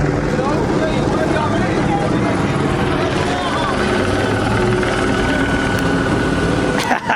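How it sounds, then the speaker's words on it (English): A police helicopter hovers overhead during a street car meet in Los Angeles, its steady, loud rotor and engine roar filling the whole clip, with people talking and street noise underneath. "Got the helicopter on top"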